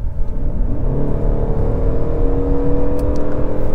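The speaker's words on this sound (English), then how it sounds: "Yeah, pretty good acceleration." A 2022 Ford Maverick XLT hybrid pickup accelerates hard in sport mode, its engine and road noise whirring in a steady, loud, rising drone heard from inside the cabin with no talk.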